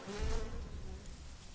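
Short, close insect-like buzzing from a charm in a video game, a droning hum with a wavering pitch that swells briefly and then fades over about a second and a half.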